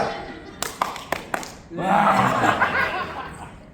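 A training group claps together in unison during a service excellence session, four sharp hand claps spaced evenly, followed by a burst of laughter and chatter from the room.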